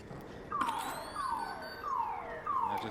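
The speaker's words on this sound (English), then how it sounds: "I just set off the alarm." An alarm blares in the video game ARC Raiders, four repeated descending electronic wails in a steady rhythm, loud and clear over a background hum with no talking.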